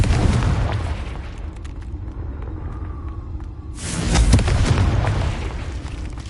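A Confringo fire spell explosion in Hogwarts Legacy bursts loudly partway through, a broad booming blast rising out of a steady rumbling game backdrop and trailing off, with no voices.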